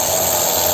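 Keelat KRW003 long-reach brushless ratchet wrench running steadily as it tightens a fastener, a continuous close motor whine and whirr heard alone with even loudness.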